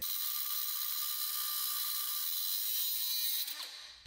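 A bolt on a BMW E30 being trimmed down with a power cutting tool, a steady high grinding whine holding for about three seconds before winding down near the end.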